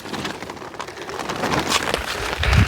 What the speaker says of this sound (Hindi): हाँ, ये है गर्मियों वाली बारिश।